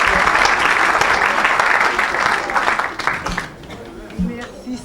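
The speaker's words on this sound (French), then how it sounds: "you can clap for Jesus Christ?" A church congregation breaks into loud, sustained applause for Jesus Christ at a French-speaking evangelistic service, the clapping thinning out toward the end as a voice speaks.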